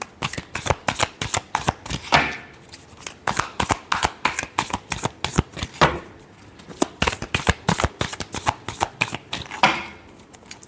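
A deck of tarot cards is shuffled by hand, producing rapid crisp riffling bursts in close, loud, uneven clusters with brief pauses between them.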